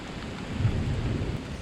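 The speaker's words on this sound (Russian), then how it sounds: "И самое печальное, что дождь может идти очень долго." A thunderstorm with rain hits a mountain road in Altai during a solo bicycle trip: a continuous hiss of falling rain with a deep, low thunder rumble swelling underneath, fairly loud and close, with no voices.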